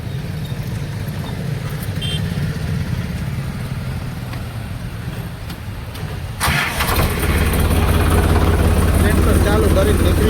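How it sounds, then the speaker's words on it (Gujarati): A tractor engine cranks and catches, then settles into a loud, steady close idle after a stretch of background noise. "કરી લઈ સીધું ટ્રેક્ટર સ્ટાર્ટ।"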